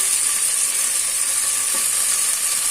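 Carrot and bean pieces, along with potato, fry in a pan for coconut rice, giving a steady, close, even sizzle that hisses continuously without a break and with no talking.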